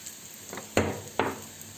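Rice stir-fried in a pan for chicken maqluba gives a low, steady sizzle, with two sharp scraping stirs cutting through close by and no voices.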